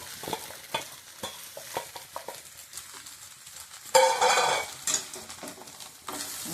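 Sabudana khichdi with potato and crushed peanuts roasts in a pan over a low gas flame, with a spoon scraping and stirring in repeated strokes and a brief louder sizzle partway through, close up and with no talk.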